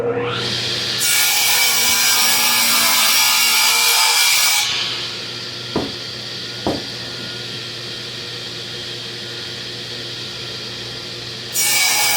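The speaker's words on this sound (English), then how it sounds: "I'm going to cut this on the saw to the size I want." A saw rips loudly through a piece of wood for a woodworking project, a dense close cutting roar that runs a few seconds. It stops, leaving a low hum with two sharp knocks, then a brief return of cutting noise at the end.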